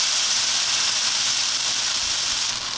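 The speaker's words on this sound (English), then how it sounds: "And saute these for 5 to 8 minutes." Salted potatoes sauté in a pan for a vegan mushroom, potato, onion and farro soup. A loud, continuous sizzling hiss carries steadily throughout, with no talking.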